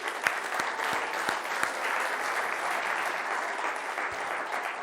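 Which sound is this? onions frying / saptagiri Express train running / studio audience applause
studio audience applause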